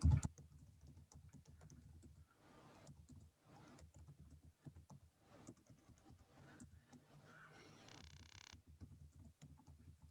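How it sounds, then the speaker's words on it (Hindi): A paragraph is typed on a computer keyboard, giving faint, rapid, continuous key clatter at a low level with brief gaps. "अब मैं यहाँ पर एक और पैराग्राफ लिख लेता हूँ।"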